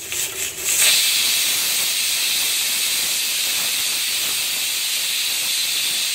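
A pressure cooker on a gas stove, cooking marinated beef on high flame, lets out a loud, steady whistle of escaping steam, a continuous hiss that begins after a brief sputter and holds for several seconds.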